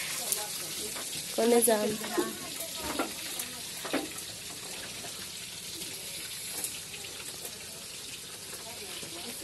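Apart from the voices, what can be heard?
fish frying in a pan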